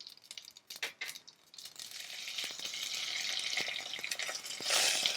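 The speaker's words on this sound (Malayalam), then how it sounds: "കടുകിടാം." Mustard seeds hit hot coconut oil, opening with a few sharp rattling taps before building into a dense, bright, steady crackle and spatter that swells near the end.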